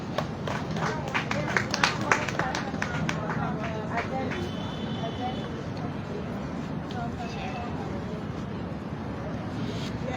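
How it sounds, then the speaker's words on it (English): An audience at a national technical and vocational job fair and expo applauds, with a burst of scattered clapping over the first few seconds that fades into steady crowd murmur and hall noise. "Please give a hand of applause for Geraldine."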